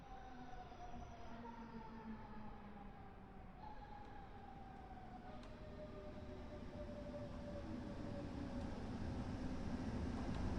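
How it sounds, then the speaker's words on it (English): A DB BR110 electric locomotive, renamed from an E10 in 1968, running on the Bremen to Oldenburg line in Train Sim World 3, with a steady rumble and tonal whine that drifts downward and grows slightly louder. "This train is a DB BR110, renamed from a Bore E10 in 1968."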